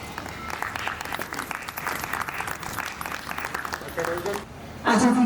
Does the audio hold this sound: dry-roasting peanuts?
no